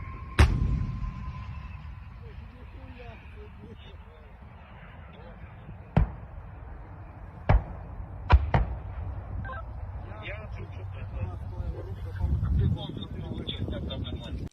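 2S1 self-propelled howitzers fire in wartime: a handful of sharp, heavy booms stand out at irregular intervals, one near the start and others spread through the middle, over steady wind rumble and low background noise, with no voices.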